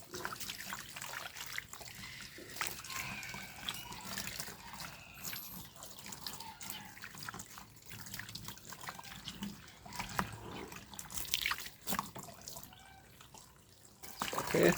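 Water splashes and trickles steadily as soap is rinsed off a dog during a bath, a continuous running-tap sound with drips throughout.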